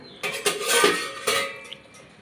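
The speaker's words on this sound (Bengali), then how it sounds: "আমি এবার ঢাকনাটাকে তুলে দেখব সেদ্ধ হয়ে গেছে কিনা।" A metal lid comes off a cooking pot of elephant-foot yam stalk chorchori with a brief clatter and scrape, a couple of close metallic knocks, then a settling quiet.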